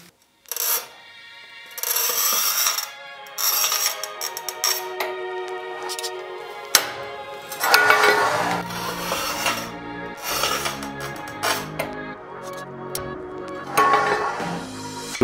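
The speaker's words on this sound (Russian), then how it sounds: "Давайте попробуем, как плиткорез работает с этой плиткой." A manual Stark tile cutter scores textured tile with long, rough grinding and ratcheting scrapes, repeated in uneven strokes up close with clicks and knocks between passes.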